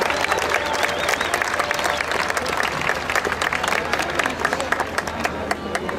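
A big crowd at an outdoor symphony event claps steadily with scattered cheers, a continuous bed of applause at even loudness with individual hand claps standing out.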